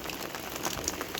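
Rain comes down during sunshine, an even wash of patter with a few sharper drops standing out nearby, steady across the moment and free of talk.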